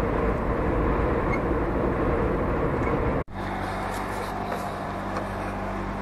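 Steady low hum of a fridge inside a parked truck cab at a motorway services in snowy weather, continuous and close, with a brief dropout midway before the drone resumes slightly changed.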